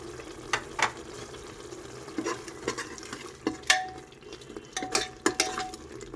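Green masala with mint and coriander leaves stirred and frying in a pan for mutton biryani: a steady soft sizzle with repeated spoon scrapes and clinks against the pan, close and moderately loud, with no talking.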